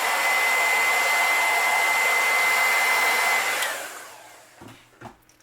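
A hair dryer blows steadily and loudly while drying paint on an Atomic Sunfish sailboat hull, with a high whine, then switches off around the four-second mark, leaving a few faint handling knocks.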